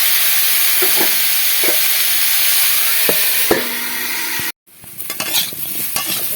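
Chunks of taro sizzle steadily in hot oil in a pan while being stirred, with broad frying hiss and a few sharp scraping clicks of the spoon. The frying breaks off briefly, then resumes with more spatula knocks.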